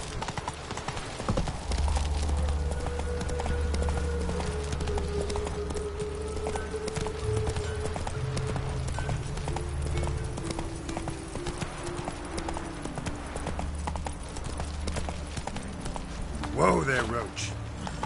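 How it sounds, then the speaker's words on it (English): Hooves of a galloping horse in The Witcher 3 beat in a steady clip-clop rhythm over game music and ambience, with someone talking over the top. "Whoa there, Roach"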